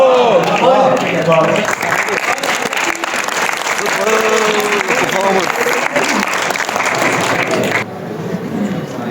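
A hall audience applauds during an Urdu poetry mushaira at Alhamra Art Center in Lahore, sustained loud clapping with voices mixed in, dropping in level toward the end.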